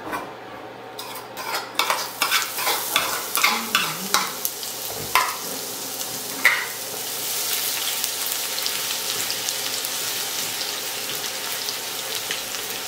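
Garlic being stirred into a sizzling pan for a sweet-and-sour chicken dish, with clinking utensil scrapes and taps at first, then a steady close frying hiss.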